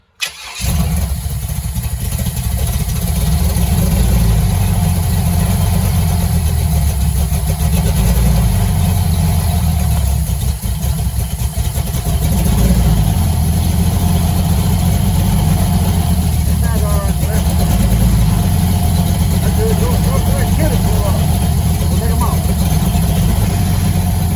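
A supercharged small-block Chevy V8 with headers idles steadily and loudly, with a deep, continuous low rumble after a brief start at the beginning.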